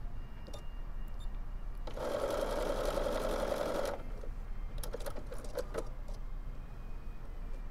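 A Bernina sewing machine fitted with a pintuck foot stitches corded pintucks in one loud, steady two-second run, with quieter background noise before and after.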